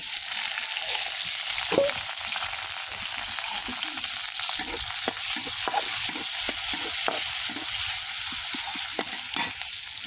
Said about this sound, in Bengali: প্রথমে কড়াইয়ে তেল দিয়ে দিছি এই যে কাটা মরিচ পেঁয়াজ কুচি রসুন কুচি এখন দিয়ে দেবো